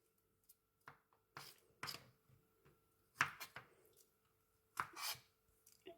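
Knife chopping food on a cutting board in a home kitchen, several sharp, irregular taps with short pauses between them, fairly close and moderately quiet, with no voices.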